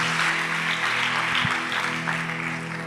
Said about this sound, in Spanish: Aplaude a Jesús con fuerza, por favor.